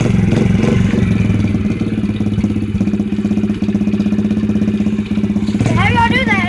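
A dirt bike engine runs at a steady, rapidly pulsing idle up close, loud and continuous, with people talking nearby and a brief rev near the end.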